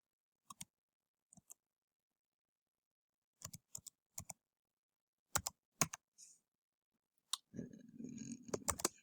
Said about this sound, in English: So I'm going to type in my password here.